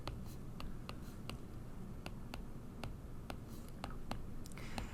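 Marker or chalk strokes on a board while working logarithm problems, a steady series of sharp taps and short scratchy swipes spaced through the clip, close and fairly quiet with no talking.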